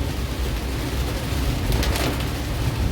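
Steady rain falls on a flooded, traffic-jammed city street in Palembang, a dense continuous hiss with low traffic rumble underneath and no talking.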